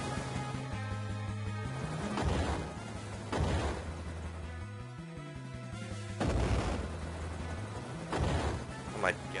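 Airship cannon fire in the video game Final Fantasy IV: The After Years, several loud booming shots spaced a second or two apart over steady game music.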